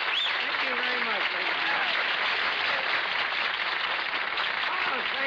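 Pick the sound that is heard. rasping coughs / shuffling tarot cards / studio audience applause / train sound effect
studio audience applause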